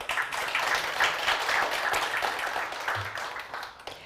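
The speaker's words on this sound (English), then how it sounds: "Applause." Audience applause at a Kyiv startup demo day, a steady crowd of clapping hands with a loose, irregular rhythm that holds fairly level and thins slightly near the close, with no one talking over it.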